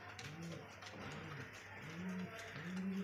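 An imported racing pigeon in a loft gives soft, low rolling coos, several in a row, faint against a steady background hum.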